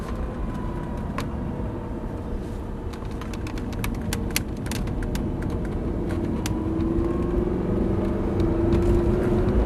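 A supercar accelerates on the Top Gear track, its engine a steady low rumble that slowly builds and rises in pitch, with scattered sharp clicks from inside the cabin.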